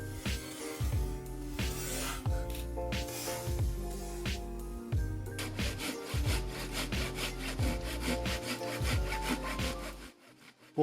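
A Silky Big Boy hand saw cuts through wood in slow motion, its long rasping strokes repeating in a steady back-and-forth rhythm, loud and close, ending abruptly.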